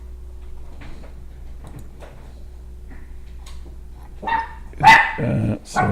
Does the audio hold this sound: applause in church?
no